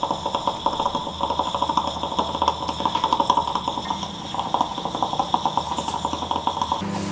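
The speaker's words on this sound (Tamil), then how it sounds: "நல்லா கொதிக்கிற சத்தம் கேட்குங்க" South Indian filter coffee decoction boiling, a steady bubbling and sputtering as liquid percolates up through the filter, with a continuous hiss and rapid gurgling pulses.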